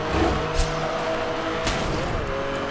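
Racing car engine roaring with tires squealing and skidding in Need for Speed: Hot Pursuit (2010), a steady loud drone with brief squeal bursts and a voice talking over it.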